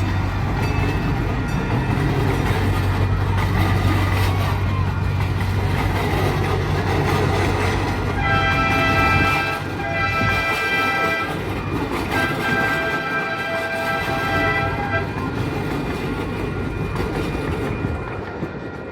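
A blue train rolls past a railroad crossing gate with a loud continuous rumble of wheels and cars, while steady crossing bell or horn tones ring out over it in the middle stretch.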